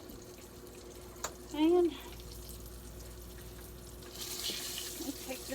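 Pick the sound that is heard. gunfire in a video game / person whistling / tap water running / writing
tap water running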